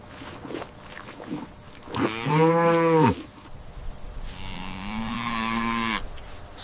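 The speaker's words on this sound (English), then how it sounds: "This is a cow." A cow gives two long, loud moos, the first strong and rising then cut off, the second lower and drawn out, with faint background noise between.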